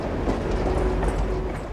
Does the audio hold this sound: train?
yes